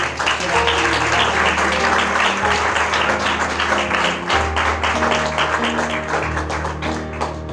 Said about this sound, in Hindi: आइए जोरदार तालियां